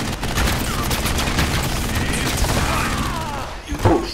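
Shotgun blasts from enemy fighters in the video game Narco Terror, dense and continuous amid other gunfire and explosions, with a sharper burst near the end.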